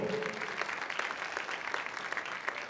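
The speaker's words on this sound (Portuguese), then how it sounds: "Vamos aplaudir a palavra do Senhor." A Catholic congregation applauds after a scripture reading, a continuous patter of many hands with occasional crisp individual claps, heard from a middle distance, with faint voices mixed in at the start.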